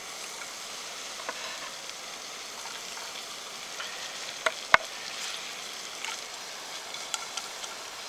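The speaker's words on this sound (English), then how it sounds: "gonna add those shallots into the hot butter" Shallots frying in hot butter outdoors at a campsite, a faint steady sizzle with small scattered pops and crackles, no voices.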